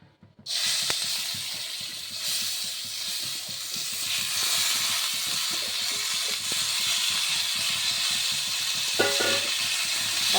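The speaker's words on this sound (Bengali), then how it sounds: "এবারে মুগ ডালটা ভেজে নেব" Mung dal tossed into hot oil in a wok bursts into a sudden loud hiss, then settles into a steady close sizzle, with a few light clinks near the end.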